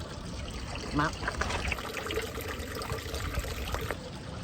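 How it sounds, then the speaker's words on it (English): A small outdoor fountain on a cobblestone street in Rhode Island trickles and splashes steadily throughout, with someone talking over the water. "Oh, look at this! A little fountain."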